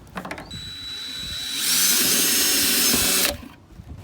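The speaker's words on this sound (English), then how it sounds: "Drill a pilot hole like we did last time." A power drill bores a pilot hole in a roto-molded cooler, a loud, steady whine lasting under two seconds after brief handling noises, then stopping abruptly.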